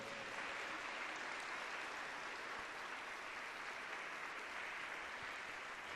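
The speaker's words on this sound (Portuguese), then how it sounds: "salva de palmas para o Senhor" A church congregation at a charismatic Catholic gathering gives a continuous round of applause, even and sustained for six seconds, heard from some distance and fairly faint, with no voices over it.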